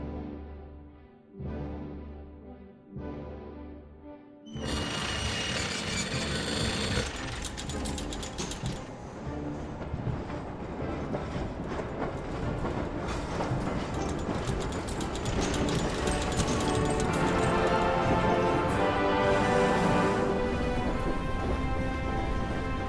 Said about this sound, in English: is now on board the clockwork train heading somewhere else